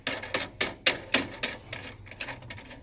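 A plastic nut being hand-tightened onto an EC19 PRO V2 cut button assembly, giving a rapid series of about ten sharp plastic clicks and ratchets, close and fairly quiet, with no voices.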